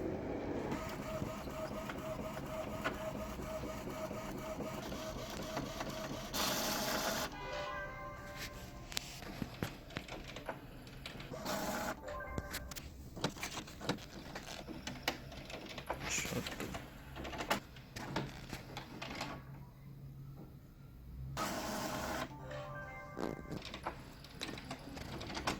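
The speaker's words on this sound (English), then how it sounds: "So I can hear the printer printing now." A photo printer sends pictures from a Mac, its mechanism whirring and clicking in bursts with short pauses between pages, heard fairly close in a quiet room.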